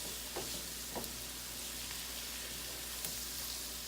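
Flour cooking in a hot pan makes a steady, quiet sizzle, a soft continuous hiss with a few faint stirring scrapes, and no one speaks over it.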